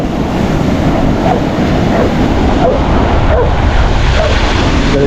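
Rough sea waves crash and roar steadily on the shore. The noise is loud and continuous, with strong wind buffeting the microphone throughout.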